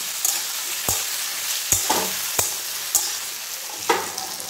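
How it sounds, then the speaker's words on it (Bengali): Vegetables with tomato and green chili fry in a pan for a Bengali daliya khichuri, giving a steady close sizzle broken by several sharp scrapes and clacks of stirring. "সবজির সঙ্গে একসঙ্গে ফ্রাই করব।"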